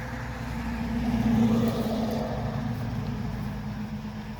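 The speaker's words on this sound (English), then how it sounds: "sorry about the car noise" Steady, low rumble of passing road traffic at a distance, swelling slightly and fading over a few seconds, with no voices.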